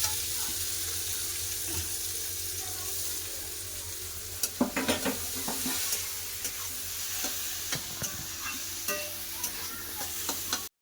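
Saag greens fry in mustard oil with onion in a wok, giving a continuous hissing sizzle with bursts of spatula scraping and stirring strokes, loudest around the middle.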